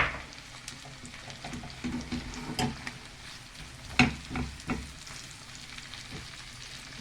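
Steady sizzling of julienned red peppers frying in a pan, with occasional clinks and scrapes of stirring, no voices.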